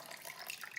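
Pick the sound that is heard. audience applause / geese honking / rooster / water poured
water poured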